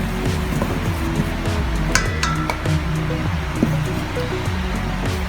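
Turmeric, cumin, garam masala and salt being stirred together in a bowl, with steady scraping and a few light clinks of a utensil against the bowl, close and continuous.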